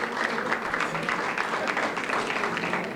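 Audience applause breaking out for the city at a welcome lunch in Hawthorne, a steady, dense clapping from a roomful of people that holds evenly for a few seconds.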